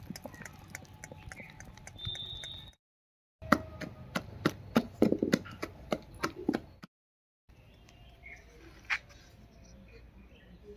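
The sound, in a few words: lentil batter being beaten by hand with a little water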